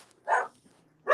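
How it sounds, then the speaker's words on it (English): Dogs bark twice, a short loud burst followed by another after a pause, fairly near and with no one talking over them. "No, they're just barking to hear themselves bark"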